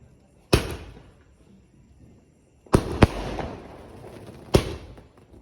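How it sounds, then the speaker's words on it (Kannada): Firecrackers set off outdoors for Diwali: four sharp, loud bangs, one alone early, then a close pair, then a last one near the end, each leaving a brief crackling tail against a quiet background. "ಸಾಮು ಪಟಾಕಿ ಹಾಕ್ಲತ್ತಾವ್ರಿ"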